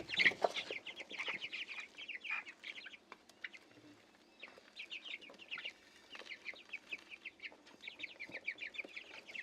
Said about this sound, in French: On va les donner aux poussins de chair dont je parlais tout à l'heure. Les 24 poussins.